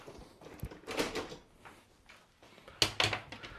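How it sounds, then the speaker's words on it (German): Top drawer pulled out of a kitchen cabinet while fitting a Bosch SMI68TS06E built-in dishwasher: a few short wooden slides and knocks, ending in two sharp clacks, close and fairly quiet. "Dazu nehmen wir die oberste Schublade raus."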